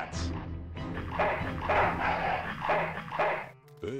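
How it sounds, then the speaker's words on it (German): A dog in the video game Full Throttle Remastered barks several times close by over a low game soundtrack, and there is a brief sharp sound near the end. "Böser Hund."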